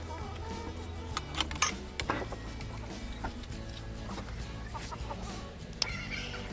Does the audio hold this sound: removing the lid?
no